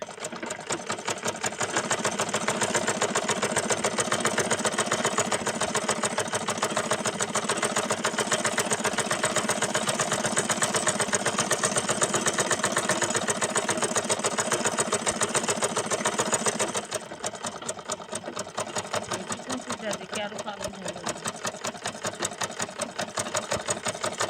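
Sewing machine stitching pleats on a dress, a loud, fast, steady mechanical whir running continuously, then briefly pausing and restarting at a slightly uneven pace, with no talking.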